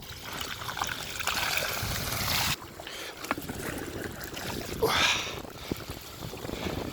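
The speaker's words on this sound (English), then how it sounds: "Got my own little waterfall." Water pouring from the outlet of a solar-powered pumping system like a small waterfall, a continuous splashing trickle outdoors with wind and a brief louder surge midway, fairly faint overall.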